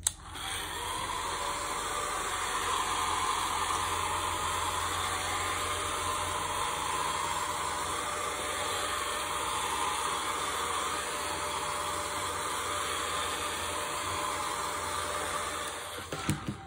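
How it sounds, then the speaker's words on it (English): Blow dryer used to dry paint on a gel printing plate, a steady close whooshing hum of air that runs unbroken and fairly loud for the whole stretch, with no talking over it. "If I'm really impatient to let it dry,"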